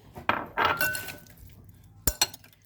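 A spoon scrapes and clinks against a bowl while beet salad is tossed with a garlic, oil and vinegar dressing, a few short close clatters with a soft wet stir between them and no talking.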